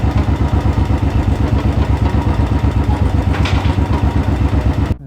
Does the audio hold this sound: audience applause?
no